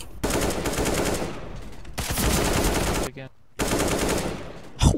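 Rapid automatic gunfire in the video game Counter-Strike, loud sustained bursts broken by a brief pause near the three-second mark, then more sustained shooting.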